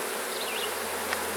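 Honey bees buzz around a freshly opened hive during a hive split, a close, continuous droning hum with the whine of a single bee passing near.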